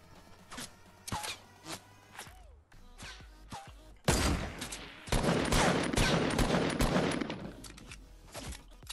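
Gunfire from the video game Fortnite comes first as sharp separate shots, then as long, dense bursts of rapid fire at close range.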